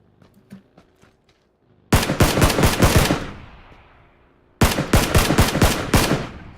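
Automatic gunfire in the battle royale game PUBG: two loud, rapid bursts of close-range shots, each a quick string of sharp cracks, with faint scattered shots before and a quiet gap between the bursts.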